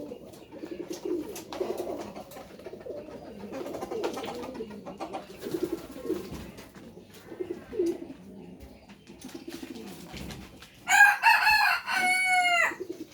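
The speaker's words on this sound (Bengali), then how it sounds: "একটা কথা বলেও শান্তি পাচ্ছি না, আশেপাশ থেকে খালি মোরগের ডাক।" Pigeons coo and hens murmur through most of the clip, then a rooster crows loudly near the end, close by and drawn out.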